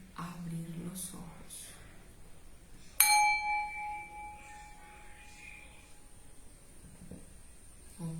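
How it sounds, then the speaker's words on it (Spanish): A single bright meditation bell strike rings out and sustains with a long, slowly fading resonant tone, with soft background noise and faint voice before it. "cuando escuche el sonido de la campana puede abrir los ojos"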